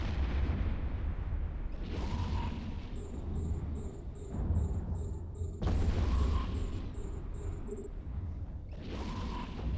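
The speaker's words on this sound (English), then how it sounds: "they're all firing missiles at me" Caldari ships fire missiles in the Eve Echoes space game: loud booming launch and impact bursts that swell and fade repeatedly, with a steady rapid electronic beeping pattern running over the rumble.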